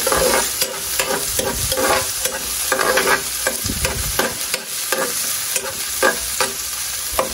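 Chicken adobo ingredients stirred in a hot pan, a spoon scraping and pushing through the food in steady repeated strokes over a continuous close sizzle, with no talking.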